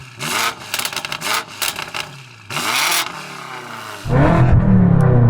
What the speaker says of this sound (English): Yanni, rev up your car.